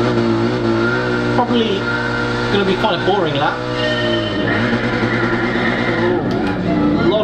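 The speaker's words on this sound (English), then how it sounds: "A lot of wheel spin there." A Mercedes AMG race car in Gran Turismo Sport revs hard with wheel spin off a bad start, its engine note climbing and dropping in sweeps beneath steady talking throughout.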